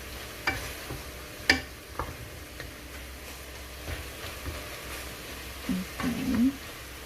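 Goat caldereta sautéing in a pan gives soft sizzling and scattered clinks and scrapes of a utensil stirring, quiet and close, with a faint voice in the background.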